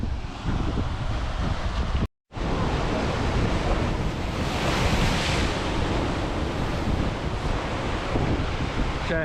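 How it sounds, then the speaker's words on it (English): Heavy North Sea surf roars continuously on the Scottish coast with buffeting wind noise on the microphone, the waves swelling into a louder crash midway. "That set of waves that come in, it was just epic."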